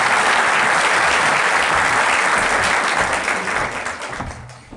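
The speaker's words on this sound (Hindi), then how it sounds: "आपकी तालियों की गूंज में सैयद कासिम अली शाह साहब।" An audience applauds to welcome a speaker to the stage, a loud, dense, continuous crowd of clapping that gradually thins and fades near the end.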